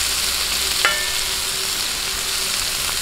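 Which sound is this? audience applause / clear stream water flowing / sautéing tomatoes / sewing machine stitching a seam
sautéing tomatoes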